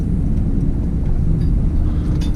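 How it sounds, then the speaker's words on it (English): Vauxhall Vivaro van driving in low gear after a clutch replacement, a steady loud engine and road rumble with faint clinks of loose tools rattling in the back. "I apologize for the noise of the tools that is in my van"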